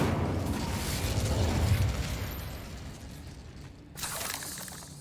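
Fiery whooshing and crackling from a fire spell in Hogwarts Legacy, loud at first and fading over several seconds before a fresh burst of noise flares near the end.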